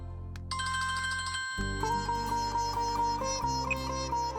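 A phone ringtone plays loud and close, a bright looping electronic melody with a steady beat that carries on without pause.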